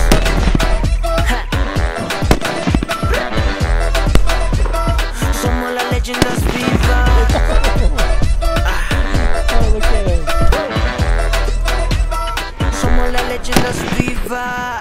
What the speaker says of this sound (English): Explosions all over the place.